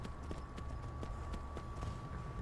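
Horse hooves clip-clop in steady rhythmic steps in the video game Skyrim, a ridden horse trotting along, fairly close and clear over a low ambient bed, with no talk.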